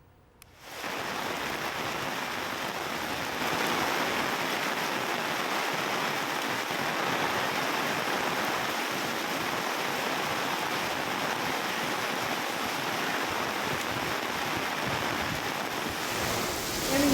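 Heavy rain pours onto flooded streets in Hyderabad's Banjara Hills area, a loud, steady broadband roar of rainfall and rushing water that holds constant throughout with no voices.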